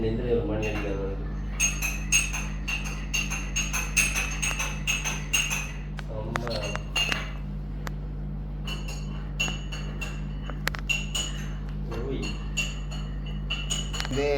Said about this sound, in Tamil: பிளேண்டியை வந்து கலக்கி கொண்டிருக்கிறான்